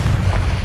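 Confringo explosive spell blast in Hogwarts Legacy, a short, loud, dense boom with heavy low rumble held for under a second.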